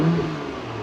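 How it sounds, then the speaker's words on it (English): Porsche Macan Turbo engine in Sport Plus mode, a short loud rev that rises briefly and then settles into a steady engine drone, close by and with no talking over it. "Sport Plus, it picks up even more"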